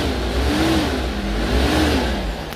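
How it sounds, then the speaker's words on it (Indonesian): A stock factory engine in a 2007 Suzuki Zebra Espass MPV revs steadily, its pitch rising and falling in two smooth swells, loud and close with no talking. "Silakan didengarkan suara mesin, masih standar pabrik, masih halus."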